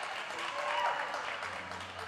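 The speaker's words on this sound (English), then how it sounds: "People are applauding that with good reason." Roller derby crowd at an Albany All Stars versus Royal Windsor Rollergirls bout applauding a completed star pass, a steady wash of clapping and cheering with no clear breaks, at moderate level in an arena.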